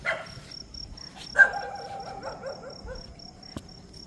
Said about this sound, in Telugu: అట కుక్క ఉంది కదా